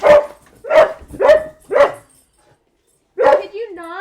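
A dog barks four times in quick succession, loud and close, then after a short pause gives one more bark that trails off into a whine, with a person speaking around the barks.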